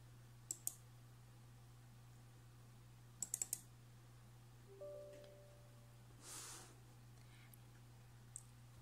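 Computer mouse on a PC while opening a CMS setup program: a few faint, crisp clicks, first a pair and then a quick cluster, with soft hum and small beeps between them, no talking.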